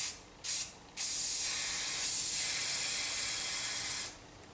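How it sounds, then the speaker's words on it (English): Aerosol spray paint can hissing at a toy car: two quick short bursts, then one sustained steady spray of about three seconds, close and bright, ending abruptly. "I'm gonna hold the can well back when I spray this."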